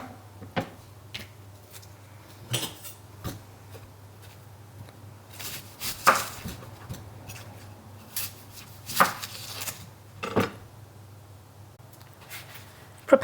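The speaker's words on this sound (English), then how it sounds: "Chop an onion." A knife chops an onion on a board in a series of sharp, irregular thuds, some near and crisp, spaced about a second apart over a faint steady background hum.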